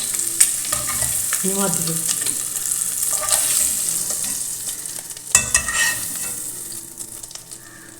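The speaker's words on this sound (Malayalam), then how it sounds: "വളരെ കുറച്ച് വെളിച്ചെണ്ണയിൽ ഇതൊന്ന് റോസ്റ്റ് ചെയ്തെടുക്കാം" Eggs roast in a little coconut oil in a pan for egg biryani, sizzling and crackling steadily while being stirred, with a few sharp scrapes and clatters; a voice briefly speaks near the end.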